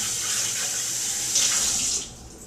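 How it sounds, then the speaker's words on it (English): Tap water runs steadily into a sink while a cocktail shaker is rinsed out, a continuous close hiss that swells briefly then drops off near the end as the flow changes. "I need to rinse out the cocktail shaker"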